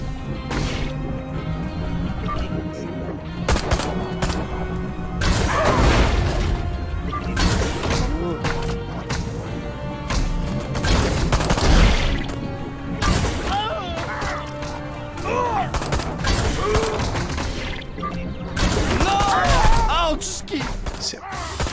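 Weapons fire and explosions from the video game Destroy All Humans! 2 come as repeated loud crashes, smashes and booms in bursts, with a person talking throughout.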